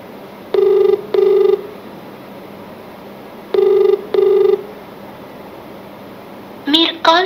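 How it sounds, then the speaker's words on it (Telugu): An outgoing phone call rings unanswered: two paired ringback tones, a pause, then another pair, before a brief electronic chirp at the end over faint background hiss. "మీరు కాల్ చేస్తున్న వ్యక్తి సో కాల్ లిఫ్ట్ చేస్తలేరు"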